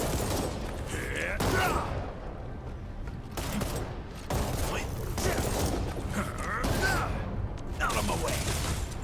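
Guns firing in the video game Arknights Endfield, with dense, rattling volleys of shots that swell and fade in repeated waves, continuing steadily without real gaps under a cluttered game soundscape.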